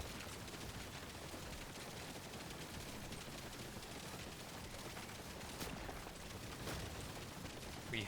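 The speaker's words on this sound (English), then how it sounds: "Classic messed up audio from the Hurricane rocket launcher." Dense, continuous rumbling barrage of rapid explosions from the Hurricane rocket launcher in the video game Deep Rock Galactic: Survivor, its audio glitched into a steady, loud wash of overlapping blasts with a few sharper bursts near the end.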